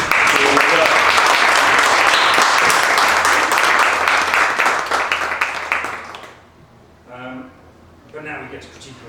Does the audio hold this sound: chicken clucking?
no